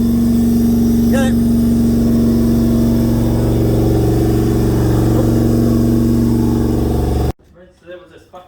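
A Toyota 1UZ-FE V8 with a sticking valve, running without a throttle fitted after sitting for years, drones loud and steady at close range for most of the clip, then cuts off abruptly as people talk.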